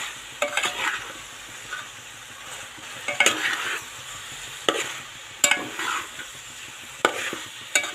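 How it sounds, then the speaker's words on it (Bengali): Chicken curry being sautéed and stirred in a pan: a steady close sizzle broken by sharp, repeated scrapes of a utensil against the pan every second or so, with no voices. "কতক্ষণ এদিকতে এটা কষতে থাকুক"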